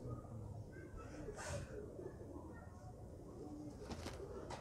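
A strong pigeon held in the hand gives soft, faint coos close by, with quiet voices murmuring in the background.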